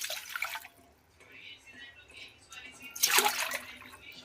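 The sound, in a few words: pouring water into a pot for double boiling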